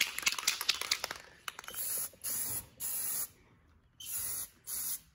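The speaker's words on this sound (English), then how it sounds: "I'm over here putting a coat of paint on this white thing" A spray can hisses in four steady bursts, each lasting about half a second to a second with short pauses, while painting a white interior part of a 1977 Camaro. Some clattering handling noise comes before the first burst.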